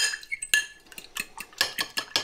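A whisk or fork clinks rapidly against a bowl, uneven bursts of metallic tapping up close as eggs are beaten.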